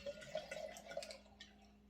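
A 2020 Dry Creek Sonoma County white wine is poured into a glass, a soft, brief gurgling trickle lasting about a second, quiet and close, then fading to near silence.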